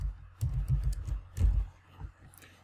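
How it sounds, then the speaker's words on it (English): Someone types on a computer keyboard in short irregular bursts of soft, close clicks, with quiet gaps between them. "in the search area of your machine, type in features."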